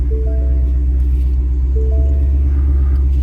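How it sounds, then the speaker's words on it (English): A 2019 Ford Mustang GT PP1 V8 engine idling after start-up, a steady deep rumble close by with faint tonal chimes over it, no talking. "if we go ahead and start the vehicle up, hear that nice Mustang rumble"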